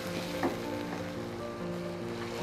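Chopped raw onion hits hot frying meat for a lemon-and-chili vindaloo, giving a steady close sizzle with soft stirring scrapes and no talk.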